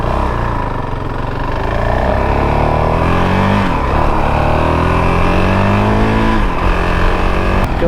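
A fuel-injected 2022 Honda CRF450RL dirt bike pulls away on a warm Florida street, its single-cylinder engine loud and close, revving up through the gears in rising pulls with brief dips between shifts.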